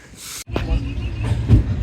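A train begins to move with a low rumble, a brief hiss and a few soft clunks, fairly close and short.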